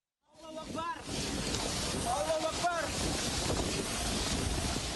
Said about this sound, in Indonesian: Hujan deras disertai angin kencang yang terekam kamera warga ini terjadi di kawasan rest area kilometer 575A Desa Ngale